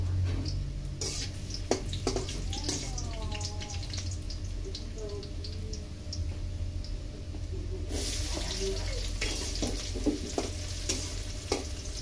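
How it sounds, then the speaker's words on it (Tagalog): Ingredients for bopis sautéing in a pan, a steady sizzle with stirring scrapes and clatter, close and continuous, while people talk and call out over it. "Tara, gisa guys. Guys, gisa tayo, gisa."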